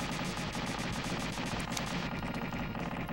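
Continuous gunfire from the SNES shooter Super Earth Defense Force, a dense steady stream of rapid retro game shots running throughout at moderate loudness, with a slight change in texture partway through.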